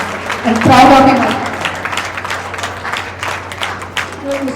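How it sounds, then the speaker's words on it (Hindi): Applause from an audience at a flower Holi festival held by a women's foundation, a loud swell of clapping near the start that settles into a steady lighter patter, mixed with crowd noise and voices. "जोरदार तालियां।"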